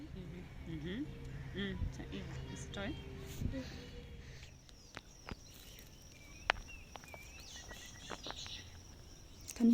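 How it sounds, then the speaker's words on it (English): Birds chirp outdoors in a rural garden with pumpkin plants, scattered calls over steady insect-like buzzing and light rustling, with occasional footsteps, fairly faint throughout. "Can you hear the birds chirping?"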